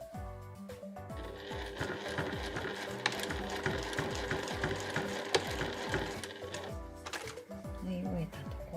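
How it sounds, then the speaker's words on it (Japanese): A sewing machine stitches backpack straps in short, rapid bursts of needle clatter, close by, with pauses between runs and a voice speaking quietly over it. "そうしたらここを1センチ縫います。"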